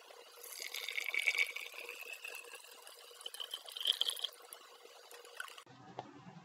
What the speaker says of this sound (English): I'm going to add distilled water about halfway into the beaker